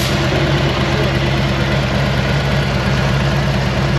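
A Harley Davidson motorcycle engine idles steadily after a service and catch can installation. The low, throbbing rumble is close and even, and it runs alone for the whole four seconds.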